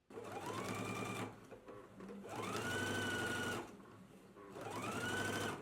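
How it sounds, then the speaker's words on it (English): A sewing machine runs in three sustained bursts as it understitches a pocket facing, catching the seam allowance underneath. The motor hums steadily and sits close, with brief pauses between runs. "So let's go ahead and do some understitching now."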